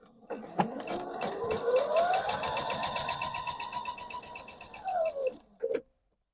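A sewing machine stitches a Christmas pillow case in a quilting setting, running in one steady whirring burst of several seconds before slowing and stopping with a few closing clicks.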